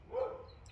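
A single dog from the neighborhood gives a short, muffled bark somewhere in the distance over a faint low background hum.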